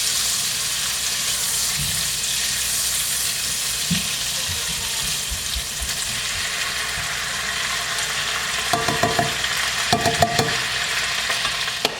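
Vegetables sauteing in butter in a pan, a steady broadband sizzle throughout with a few clattering stirs near the end, no one speaking.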